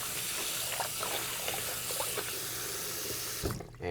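Tap water runs steadily into a sink to soak wool socks in a hotel room, a close continuous rushing splash that is cut off abruptly near the end, with no voices.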